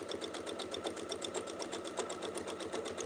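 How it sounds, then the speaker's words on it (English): A sewing machine stitches a clamshell quilting template in a steady, rapid run of close, even needle strokes, loud and continuous with no talking. "And we'll sew this one right in."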